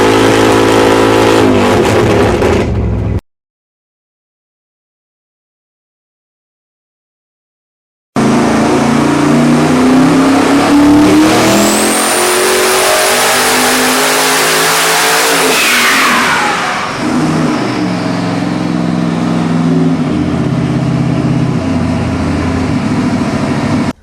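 Nelson Racing Warrior 632 pump-gas V8 crate engine on 91 octane, rated 837 horsepower, revving hard and loud, with a rising roar, a high whine and repeated throttle blips, broken by a few seconds of silence.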